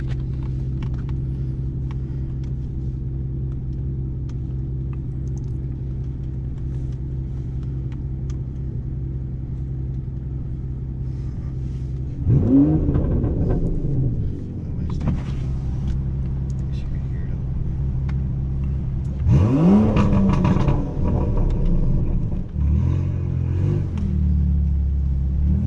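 A 2019 Aston Martin DB11 AMR cruises with a steady low engine drone, then rises in two strong acceleration pulls, the engine pitch climbing each time; people talk over it.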